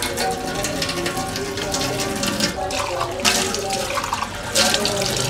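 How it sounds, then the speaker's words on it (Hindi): A cup being washed under a running tap, with water gushing and splashing loudly and steadily and surging in bursts as the cup moves through the stream. "अभी एक कप धो लिया अपना।"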